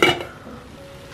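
Noodles boil in a pot in a home kitchen while baked chicken cheese macaroni is being made. A brief clatter at the start gives way to a steady, close bubbling simmer.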